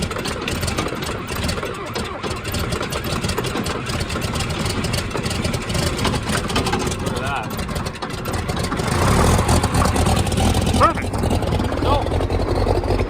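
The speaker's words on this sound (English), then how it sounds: "Maybe cleaning up that starter did work. I don't know, it cranked over pretty good there" An engine that just had its starter cleaned cranks over and runs with a steady mid-pitched chug that grows louder and rougher toward the end, while a person talks over it.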